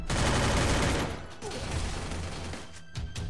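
Rapid automatic gunfire bursts in the Free Fire battle-royale video game, a dense loud volley for about a second, then scattered shots and game effects trailing off.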